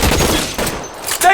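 Suppressing gunfire in L.A. Noire, a short burst of rapid shots close and loud, fading briefly before a final crack, with a voice partly over it.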